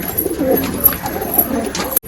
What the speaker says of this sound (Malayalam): ഇതാട്ടോ പ്രാവ് വരുന്നേ